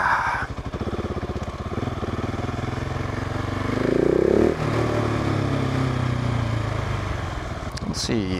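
Single-cylinder engine of a 2019 Husqvarna 701 SuperMoto motorcycle on a test ride, a steady close drone that swells and climbs in pitch around the middle as it revs, then settles back to a lower even hum.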